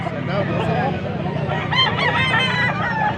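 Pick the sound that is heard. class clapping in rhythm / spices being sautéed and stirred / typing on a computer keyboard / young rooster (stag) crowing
young rooster (stag) crowing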